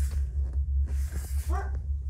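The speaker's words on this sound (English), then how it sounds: "My dog's barking back there." A dog barks and whimpers somewhere behind the room, a few short yelps with a brief whining cry, faint and distant over a steady low hum.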